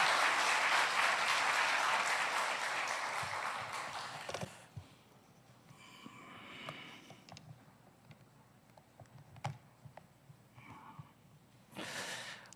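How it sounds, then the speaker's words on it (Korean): A church congregation at a Sunday afternoon service applauds to welcome a missionary, with loud, dense clapping for about four seconds that then stops abruptly, leaving quiet room noise, shuffling and a few faint knocks. "나오실 때 큰 박수로 환영하시겠습니다"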